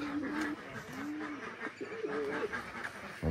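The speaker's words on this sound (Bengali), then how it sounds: "আমাদের কবুতর গুলো" Pet pigeons at a village home cooing in soft, repeated low calls over about three seconds, fairly close, with faint background murmur and no clear speech.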